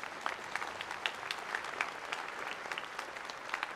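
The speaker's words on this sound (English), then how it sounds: "Clap for her." Steady crowd applause at the inauguration of Josh Green as Hawaii's governor, welcoming Vicky Holt Takamine to the stage, a sustained patter of many hands with a few sharper claps standing out.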